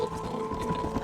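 Galloping horses in a herd in the Red Dead Redemption video game, a brief burst of rapid hoofbeats over a steady musical tone.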